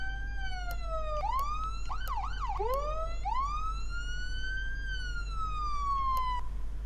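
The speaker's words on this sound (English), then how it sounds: "I'm trying to get the siren turn on." A police car siren in the video game Flashing Lights wails steadily, with rising and falling sweeps and a few quick yelping warbles. It sounds loud and close, with no one talking over it.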